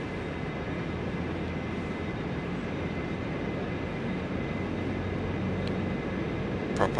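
Simulated Q400 turboprop engines in a flight simulator spool up into a steady, dense drone that holds level throughout, with a slight rising whine near the end and no talking.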